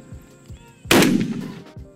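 A single gunshot fired from the hip during trick-shooting practice, a sharp loud blast with a short ringing tail, preceded by faint background noise.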